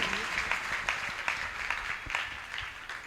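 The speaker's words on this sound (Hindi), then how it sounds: "तो जोरदार ताली बजा करके मुझे आदेश दे" An audience claps at a religious gathering marking a monk's initiation anniversary, a moderately loud, steady patter of many hands continuing throughout.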